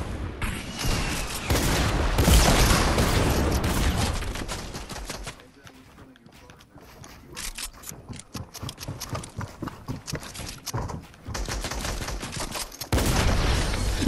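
Rockets fire in the video game Fortnite as dense, loud bursts of explosive blasts, which drop back to scattered softer shots before building to heavy volleys again.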